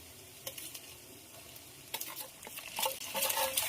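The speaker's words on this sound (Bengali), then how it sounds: "টমেটো কুচি দিয়ে দেবো" Chopped tomato fries in a pan with onion, giving a soft continuous sizzle broken by scraping stirring strokes that grow busier and louder toward the end, with no talk.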